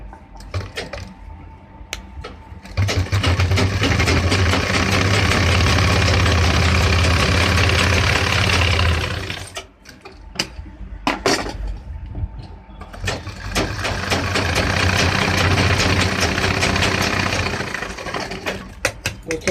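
An electric sewing machine runs a double line of stitching on a pair of trousers in two loud continuous bursts with a short pause between them, the motor's whir dominating the room.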